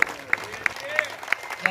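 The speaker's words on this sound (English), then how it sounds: "So you all deserve a round of applause today" At an outdoor 50-year commemoration of the 1967 Detroit riots in Gordon Park, evenly spaced sharp claps ring out at a brisk steady rhythm, fairly close and moderate in loudness, with voices talking underneath.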